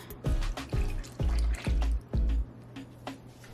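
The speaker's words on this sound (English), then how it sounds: "And then you just add in the buttermilk." Buttermilk is poured into a vegan coffee cake batter, giving a series of five thick, wet glugs and splashes in an irregular rhythm, close and moderately loud, then a few faint drips.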